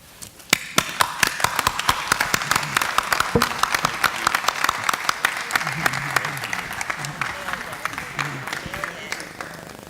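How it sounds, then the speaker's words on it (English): Audience at a school board meeting applauding committee members, clapping that builds quickly into a dense, bright patter and carries on steadily, with some low talk or crowd murmur underneath. "Let's give another round of applause to all 6 of our Strand and our committee members."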